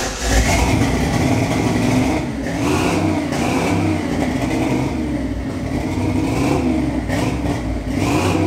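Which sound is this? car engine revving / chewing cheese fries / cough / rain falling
car engine revving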